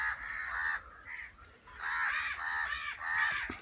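Several loud, harsh crow caws in quick bursts near a crow's nest in a jamun tree, with brief pauses between calls, close by and without any talking.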